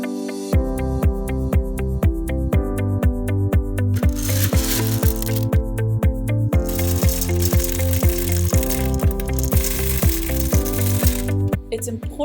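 A Whirley Pop popcorn popper being stirred as kernels heat in coconut oil over medium heat, giving a steady rapid ratcheting gear clatter over continuous loud sizzling, close up with no talking.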